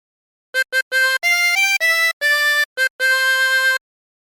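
Harmonica playing a theme, a clear run of short blown and drawn notes in a bouncy phrase with brief gaps, close and solo with no talking.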